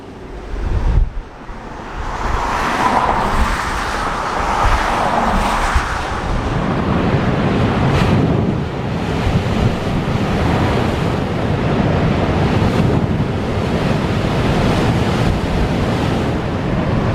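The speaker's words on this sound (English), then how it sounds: "So waves come in, go through the opening underneath here, and water shoots out like a geyser." Ocean waves surge through the Spouting Horn rock opening on the Oregon Coast, a loud continuous roar of surf and rushing water with heavy wind buffeting the microphone.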